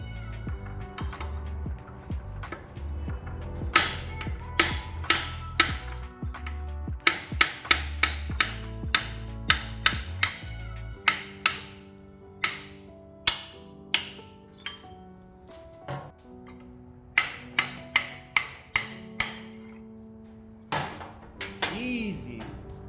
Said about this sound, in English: but I'm gonna use my universal axle hammer out tool